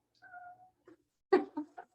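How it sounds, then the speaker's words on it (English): Two cats meow faintly indoors: one drawn-out meow, then a short cluster of quicker meows about a second later, with silence in between. "these two started meowing when he left"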